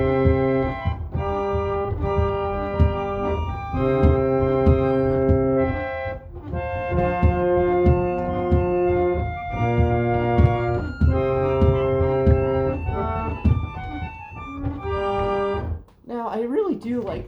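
An 1882 Estey reed organ plays with its 4-foot viola and flute stops drawn. The chords are steady and sustained, with a reedy, breathy tone, and fill the room for about fifteen seconds before a short break at the end.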